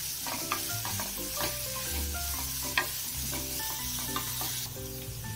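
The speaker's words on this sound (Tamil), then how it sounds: "இந்த வெங்காயத்தை நல்ல பிரவுன் கலர் வர வரைக்கும் வதக்கிக்கோங்க" Onions sautéed until brown in a pan for brinjal masala, a soft continuous sizzle with occasional light stirring clinks, close but fairly quiet, no voices.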